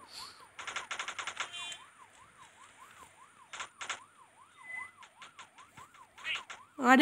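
A police siren in the video game Vegas Crime Simulator wails, rising and falling steadily throughout, with bursts of rapid gunfire breaking in over it and a loud crash near the end.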